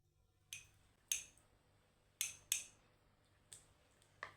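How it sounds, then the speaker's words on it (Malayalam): A spoon clinks against a bowl while mixing honey with a quarter spoon of turmeric powder, giving six sharp, separate taps spread out irregularly, close and fairly quiet, with no talk. "ഇനി നമുക്കിത് രണ്ടും കൂടെ മിക്സ് ചെയ്യാം."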